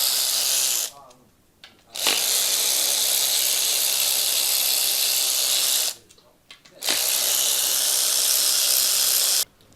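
Bolts on the oil pump of a Subaru EJ series engine being removed with a power tool, three long, loud, whirring bursts with short pauses between them, fairly close.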